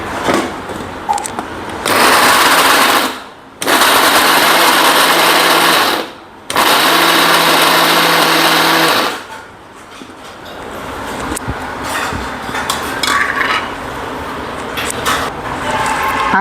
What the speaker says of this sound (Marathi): आणि आता एकदा आणखी आपण मिक्सरला हे फिरून घेऊ